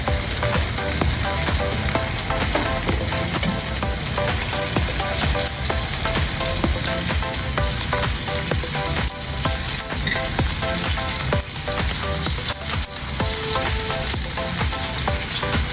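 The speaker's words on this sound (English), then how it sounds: "Olive oil and unsalted butter in the cast iron skillet." A T-bone steak fries in olive oil and unsalted butter in a cast iron skillet, giving a dense, continuous loud sizzle and crackle up close, with faint stirring scrapes.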